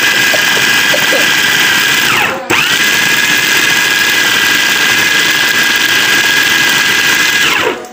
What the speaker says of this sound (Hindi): और अब इसको दोबारा मैं एक तरह से ग्राइंड करूँगा और बिल्कुल बारीक